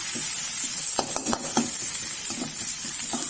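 Chili paste fries in hot oil for a Northern Thai frog curry, a steady close sizzle broken by a few scraping stirs in the pan, with no talking.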